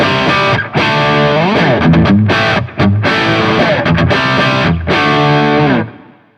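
A Gibson Les Paul Classic electric guitar plays loud, heavily distorted chords and bends, ringing in sustained phrases with brief gaps between them before fading out at the end.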